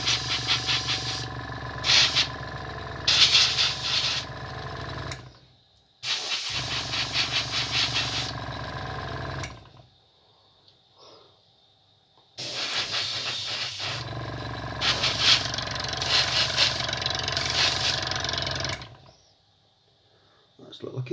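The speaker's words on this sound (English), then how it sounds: "my compressor doesn't want to stay where it's supposed to. It's jumping across the table" An airbrush compressor runs while spraying paint on a model, giving a loud rattling hiss with a mechanical chug in three long bursts separated by near-silent pauses.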